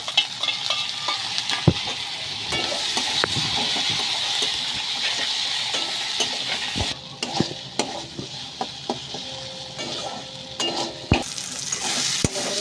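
Fish curry spices with chili powder, cumin, salt and chopped tomatoes fry in a pan under a steady sizzle, punctuated by repeated sharp scrapes and knocks of a spatula stirring against the metal.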